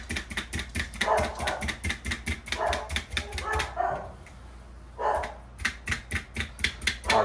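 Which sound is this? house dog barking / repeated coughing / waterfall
house dog barking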